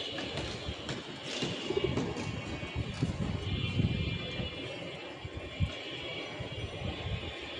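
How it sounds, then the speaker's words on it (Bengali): Imported chila pigeons on a rooftop on a windy, sunny day, with soft intermittent cooing mixed into steady wind noise and a faint rumble that stays in the background throughout. "কার যেন একটা আমদানি চিলা কবুতর আমার নিচের ছাদে এসে বসছে"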